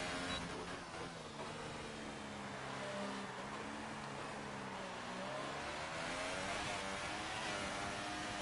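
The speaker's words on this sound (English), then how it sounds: "There we go, increasing the RPMs." A Formula 1 car engine in F1 2018 on the Canada circuit, a high, whining rev that climbs and shifts pitch through the gears, sustained and fairly faint, with no pauses.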